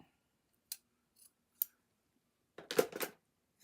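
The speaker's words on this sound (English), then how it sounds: "And then all I do is snip this apart" Scissors snip through card stock in a quiet room: a few sparse, crisp single cuts, then a quick cluster of sharper snips toward the end, close and clear with no talk.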